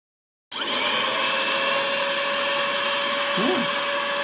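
An inexpensive Aurora cordless vacuum cleaner switches on abruptly indoors and runs with a steady high-pitched whine, loud and close, with a brief shift in tone near the end.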